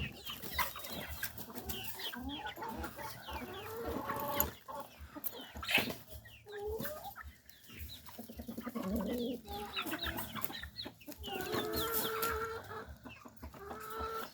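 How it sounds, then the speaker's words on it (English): Roosters squabbling in a chicken pen, with loud irregular clucks, squawks and crowing-like calls close by, softer cooing and scuffling between bursts. "A couple roosters in a mess here."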